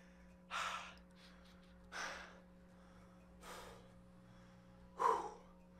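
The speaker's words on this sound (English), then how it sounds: "Gotta blow my nose." Four breathy, forceful nasal blows come one after another in a quiet room, someone blowing their nose with short pauses between.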